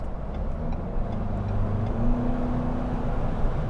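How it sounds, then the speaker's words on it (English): A 2022 Ford Bronco Big Bend with an EcoBoost engine gives a steady drone and a faint rising whine while driving on the road, continuous and fairly loud with no talk. "It's totally like that Mustang whine. Oh, I love it. The EcoBoost whine."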